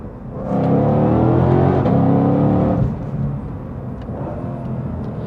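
A 2020 Shelby GT500 drops gears and accelerates, a loud rising engine roar building for about two seconds before easing back to a lower steady drone, with no voices.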